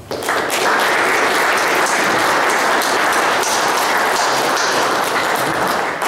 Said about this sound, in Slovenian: naš predsednik in naš kandidat za poslanca zaslužijo en velik aplavz